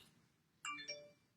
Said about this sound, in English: That's just my mobile phone notifying me that we are online.